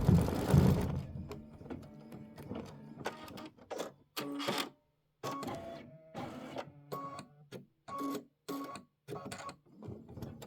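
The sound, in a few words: embroidery machine stitching quilt applique decorative outline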